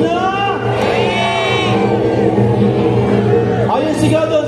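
A large crowd shouts and cheers loudly and continuously at the Aliwan Fiesta 2024 winner announcement, with individual whoops rising above the roar and voices mixed in.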